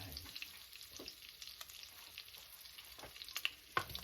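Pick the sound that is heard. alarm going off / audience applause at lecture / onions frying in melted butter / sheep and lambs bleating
onions frying in melted butter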